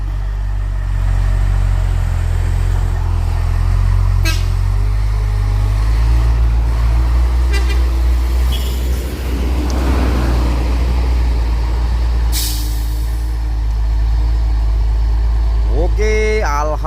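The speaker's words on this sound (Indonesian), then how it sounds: "Akhirnya truk ketarannya kuat juga nanjak." A heavily loaded truck grinding up a steep hill, its deep engine drone loud and sustained, with some faint voices in the background.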